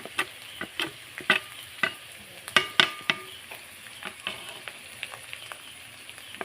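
Ground turmeric, chilli, coriander and cumin powders with salt frying in a pan, a soft continuous sizzle broken by a dozen or so sharp scraping clicks of a spoon stirring, close and fairly quiet, no voices.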